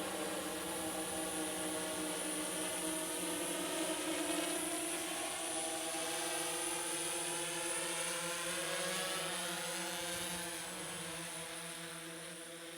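DJI S1000 octocopter drone flying in to land, a continuous multi-rotor buzz with a steady tonal whine that holds evenly and eases slightly in level near the end, alone with no talking.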